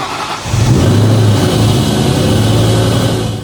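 A supercharged 2003-2004 Ford SVT Cobra engine with a newly installed ram air intake starts after a brief crank, then settles into a loud, steady close-up idle with a low rumble and faint whine.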